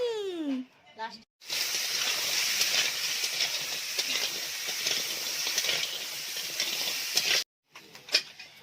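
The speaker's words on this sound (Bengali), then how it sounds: "কাঁকড়া ভাজা হয়ে গেছে" Crab pieces fry in hot oil in a home kitchen pan, giving a steady, close sizzling hiss that runs for several seconds. Brief voices come before and after the frying.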